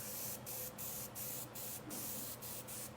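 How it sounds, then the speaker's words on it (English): An airbrush sprays thinned Payne's Gray paint across a fish fin for taxidermy finishing, a soft steady hiss broken by brief pauses into several bursts, close and fairly quiet, with no talking. "now we're gonna spray across the fin ray, so it's gonna hit the high spot"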